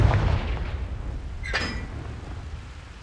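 A Confringo fire spell in Hogwarts Legacy goes off as a single sharp, explosive burst with a bright crackle, over a low rumbling game backdrop.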